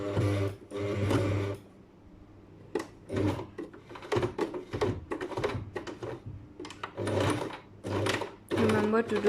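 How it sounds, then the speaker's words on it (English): A sewing machine stitching fabric for an accordion pocket, running in short close bursts of rapid needle clatter with pauses between, while a person talks over and between the runs. "Remember to do reverse stitch. Okay, needles down when you're turning your fabric."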